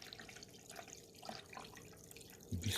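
Water pours from a Mr. Coffee 12-cup programmable coffee maker's carafe into a sink, a steady splashing trickle with a heavier gush near the end.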